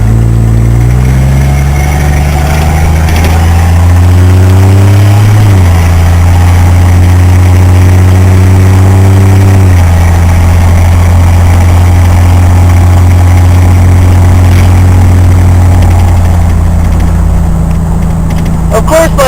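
An engine running at low idle, a steady deep drone with a slight rise and fall in pitch partway through, sustained and loud from start to finish.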